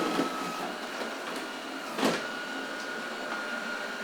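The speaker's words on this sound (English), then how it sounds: "Then off it goes to create a map of everywhere you want it to vacuum" Eufy L60 robot vacuum whirring steadily as it sets off to map and clean the room, a continuous mechanical hum with a few small bumps and clicks, fairly near and alone.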